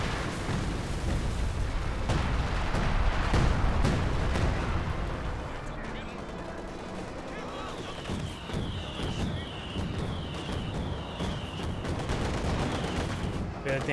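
Battlefield combat in the strategy game Company of Heroes 2: heavy assault artillery and gunfire pound away in dense, overlapping bursts of booms and crackling shots, loud at first and then settling into steady fire with a high whining tone.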